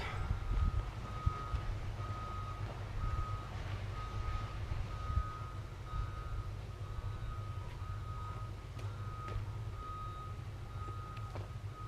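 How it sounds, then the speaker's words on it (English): An excavator working across the street sends out a steady run of evenly spaced reversing beeps, moderately far off, over a constant low rumble of machinery. "Yeah, excuse the beeping noise."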